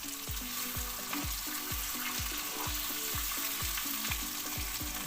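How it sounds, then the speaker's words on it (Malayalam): Masala-rubbed sardine roe frying in hot coconut oil with curry leaves, a continuous close sizzle punctuated by a steady series of soft regular pops and bubbling bursts. "മസാല തിരുമ്മി വെച്ച മത്തി മുട്ട ഇതിലേക്ക് ഇട്ട് കൊടുക്കാം. മത്തി മുട്ട തിരിച്ചിട്ട് കൊടുക്കാം."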